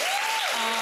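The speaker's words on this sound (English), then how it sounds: "So let's give that a round of applause." A short burst of audience applause, a dense wash of clapping with a faint sliding tone over it.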